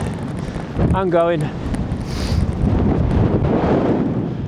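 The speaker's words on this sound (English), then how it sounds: "the wind is certainly picking up" Strong wind of over 60 mph buffets the microphone beside a Hilleberg Soulo tent with a loud, continuous roar and gusts, while a person briefly speaks over it.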